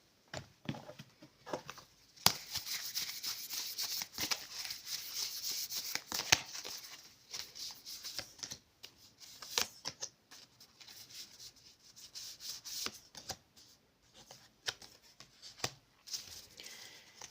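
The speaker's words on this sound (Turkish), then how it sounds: "Şimdi bakalım Rumi'den de şöyle bir birkaç tane kart alalım." Tarot cards are shuffled and drawn: soft papery rubbing and swishing with occasional light slaps of cards, close and fairly quiet, coming in uneven bursts with pauses and no talking.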